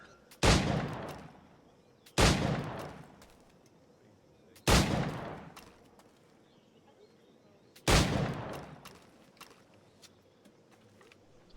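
Four sharp pistol shots ring out at targets in Assassin's Creed IV Black Flag, spaced a couple of seconds apart, each with a loud crack and a short decaying echo, and no talking.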